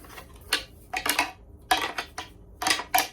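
A Tree Thrasher deer call imitates a buck making a scrape: irregular bursts of scraping and rattling clatter in short clusters, fairly close and moderately loud, with quiet gaps between.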